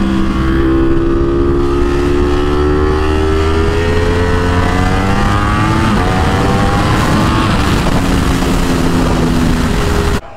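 A Ducati Superleggera V4 motorcycle engine roars loudly and steadily while riding, its pitch climbing through gear changes with strong wind rush, then cutting off abruptly at the end.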